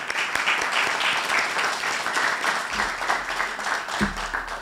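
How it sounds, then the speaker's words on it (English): A roomful of people applauds at a US Department of Justice event marking two years of community violence intervention, the clapping steady and dense throughout, with a brief low thump near the end. "Please give him another hand of applause."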